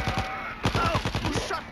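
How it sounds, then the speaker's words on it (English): Gunfire in the zombie shooter World War Z on Nintendo Switch, a rapid burst of close, sharp shots in a rough rhythm over about two seconds, with game ambience behind it. "Oh, you shot me!"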